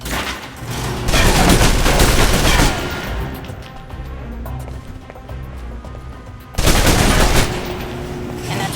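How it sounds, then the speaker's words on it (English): Submachine gun fire from the Alpha Protocol video game, loud sustained bursts of rapid automatic shots at close range, one long burst followed by quieter scattered fire, then another heavy burst near the end. "the SMGs can help clear the room quickly. Not subtle or quiet, but..."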